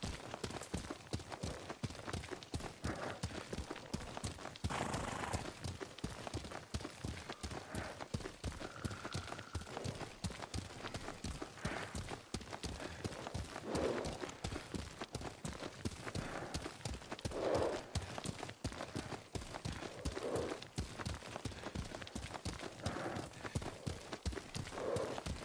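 Horse hooves in a steady rhythmic clip-clop while riding in the video game Ghost of Tsushima, continuous and fairly quiet, with faint background ambience.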